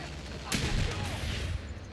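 A single sharp sniper rifle shot cracks out loud and close in a battlefield video game with tanks, followed by a rumbling tail over a constant background din of game noise.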